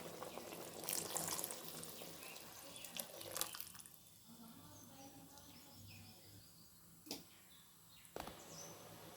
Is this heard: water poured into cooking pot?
yes